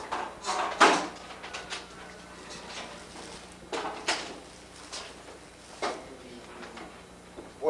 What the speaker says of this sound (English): I'll close that door.